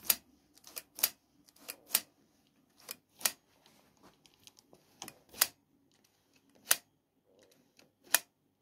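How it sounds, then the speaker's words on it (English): The throttle on a Kawasaki ZRX fitted with new carburettors and cables snaps shut again and again, giving a series of sharp, isolated clicks spaced irregularly over a quiet background, each crisp and close. "what you need to be aiming for now is that the throttle snaps back perfectly"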